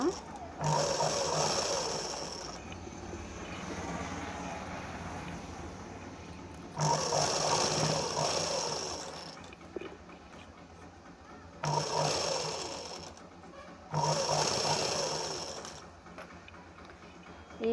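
A sewing machine stitches a boat neck blouse in several short, close bursts of rapid mechanical whirring, each run separated by quieter pauses.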